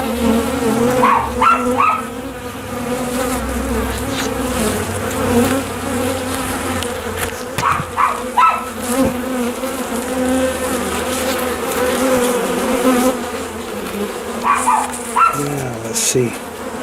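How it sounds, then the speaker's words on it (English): Honeybees hum in a dense, steady drone at a top bar hive, heard close and loud throughout, with scattered knocks and handling noises over the buzzing. "Okay, well, we got bees down there."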